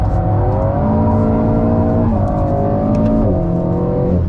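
An Alpine A110GT driving sideways on a race track gives a loud, close engine drone that rises and falls through gear changes as it accelerates and slides, with no voices.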